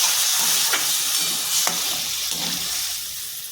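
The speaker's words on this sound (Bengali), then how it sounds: "আমি এবার জল দিয়ে দিচ্ছি, সেদ্ধ হওয়ার জন্য" Water splashes into a pan of frying ivy gourd, setting off a hissing sizzle punctuated by a few sharp clinks of utensils that fade toward the end.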